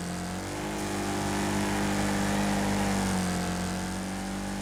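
A car drives on asphalt in the Wreckfest video game, its engine a steady droning hum with a sustained held pitch, close and continuous throughout, with no talking.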